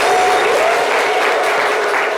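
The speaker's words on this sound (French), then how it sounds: "On vous l'applaudit bien fort" Loud, continuous applause from a live audience after a demonstration, a dense even wash of clapping with a faint crowd murmur and no break.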